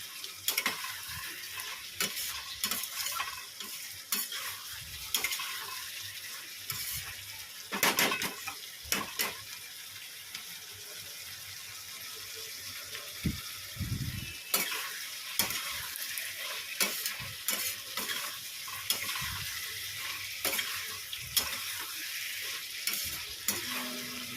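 Jackfruit and boiled potato curry with spices is stir-fried in a pan, a continuous low sizzle broken by repeated scraping and clinking of a utensil against the pot, some stretches louder than others.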